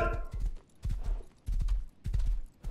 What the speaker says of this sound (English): Okay, let's ride this horse.